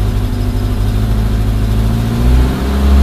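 A Suzuki Samurai engine fitted with a Toyota carburetor runs loud and steady at close range, a low droning idle that rises slightly near the end, with no voices over it.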